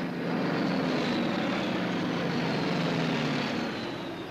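Propeller engines of a WWII torpedo bomber, the Avenger, drone steadily in a broad, loud roar with a faint rising whine, continuous for several seconds with no voices.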